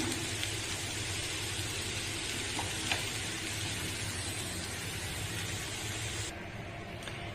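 Sundal being stirred in a hot pan on a stove, a continuous soft sizzle with faint scrapes and ticks of the spoon, steady and close, then the hiss drops slightly near the end.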